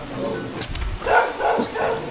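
A dog barks and yips a few times at close range in an outdoor home setting, short sharp calls mixed with light background noise.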